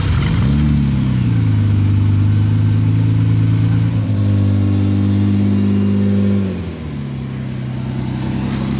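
A red Bugatti Divo supercar engine roars loud and close, its pitch sweeping up with a hard rev, holding a high sustained drone, then dropping abruptly to a lower idle-like rumble.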